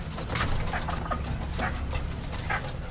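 Pigeons in a loft, a dense noisy backdrop with repeated soft bird calls and occasional flutter, steady and fairly close.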